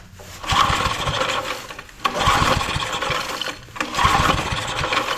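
A vintage Homelite generator that sat unused for thirty years cranks over in three long rough bursts, each rasping, uneven run of the engine stopping briefly before the next attempt, loud and close.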